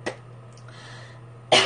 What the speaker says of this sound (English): Sorry, I'm coughing a little bit.